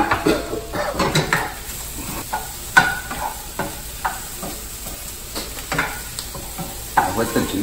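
Eggs frying in a pan for a home breakfast, with soft crackling sizzle broken by repeated scraping and clinks of a utensil against the pan, close and moderately loud, and no talking.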